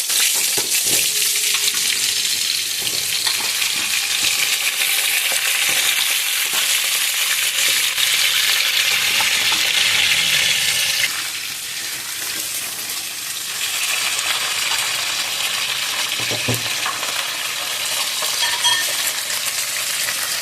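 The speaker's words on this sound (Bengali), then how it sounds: "ওই তেলেই ফুলকপি ফুলকপিগুলো খুব ভালো করে ভেজে দেবো" Cauliflower pieces fry in the same oil left from frying fish, a loud continuous sizzle that eases slightly halfway through, with occasional stirring clinks and scrapes close by and no voices.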